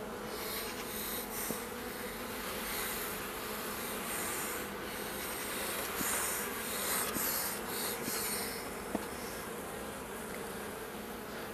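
Honeybees buzz in an open hive during queen rearing, a dense continuous hum filling the whole stretch with occasional soft clicks and rubbing sounds, no talking.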